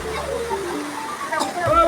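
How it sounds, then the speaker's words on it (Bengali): A scenic waterfall at a place of worship, its steady broadband rush of falling water filling the scene at moderate loudness, with faint voices and movement mixed in. "একটা ঝর্ণা আছে, খুব সুন্দর ঝর্ণা।"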